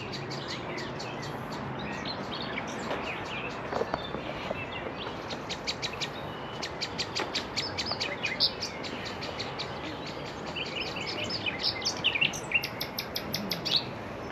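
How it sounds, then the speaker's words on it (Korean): On a hillside path in Plovdiv, Bulgaria, a bird gives a distinctive call of rapid repeated high chirps in bursts over steady outdoor ambience, fairly clear and close, with no talking. "새가 이 독특한 소리를 내네"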